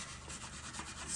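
A small brush scrubs alcohol and cleaner into the cracks of a plastic practice board. The rubbing scratches come steadily and close by, without pause, through the short moment.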